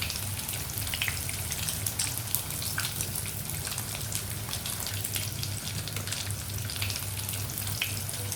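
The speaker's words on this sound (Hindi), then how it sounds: "मीडियम फ्लेम पर हमें गोल्डन ब्राउन होने तक कटलेट्स को फ्राई कर लेना है।" Fish cutlets fry in oil over a medium flame, giving a continuous crackling sizzle with dense popping spatters that stay steady and close throughout.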